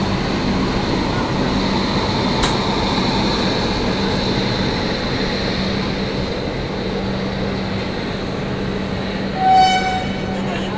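An express train pulls out of a station, heard from on board as a loud, continuous rumble of rolling wheels and carriage noise, with a distant horn toot near the end.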